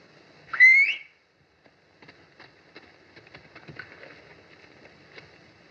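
A person gives a single short, rising whistle to call a horse, close and clear, followed by quiet shuffling and faint hoof-like taps.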